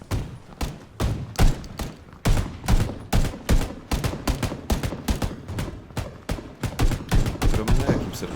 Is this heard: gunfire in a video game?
yes